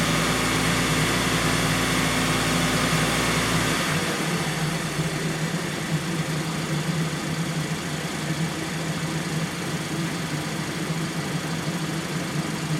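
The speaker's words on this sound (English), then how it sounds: "let me take the pedal depressor out and let's see how it sounds at idle" A 2019 Hyundai Sonata SE with a Theta engine and noisy injectors idles steadily and fairly loud, with a deeper roar in the first few seconds that drops to a smoother, even hum for the rest.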